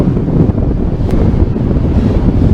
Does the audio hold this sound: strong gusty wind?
yes